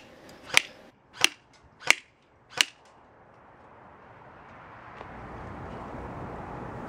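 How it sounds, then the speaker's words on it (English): An airsoft gun shoots BBs at TMC M Frame glasses from about 10 feet away: four sharp, evenly spaced snapping cracks, then a steady rising hiss with no further shots. "we'll be shooting the TMC M Frames from approximately 10 feet away"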